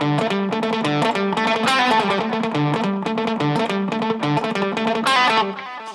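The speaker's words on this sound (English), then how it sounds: "you can hear the echo going on. There's also chorus going on one of the speakers" Electric guitar playing a busy riff through quarter-note delay echo and chorus, with repeats stacking into a dense, continuous wash for about six seconds before fading slightly at the end.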